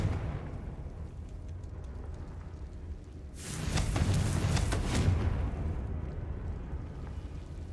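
A Confringo blast spell goes off in a Hogwarts video game, a sudden loud broadband burst of explosive rumble that swells and sustains for about two seconds before settling back into a low ambient game hum.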